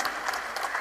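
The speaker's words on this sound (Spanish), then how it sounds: "Queremos pedir un gran aplauso para la orquesta de cámara" A brief stretch of concert crowd applause for a chamber orchestra, many hands clapping steadily at moderate loudness.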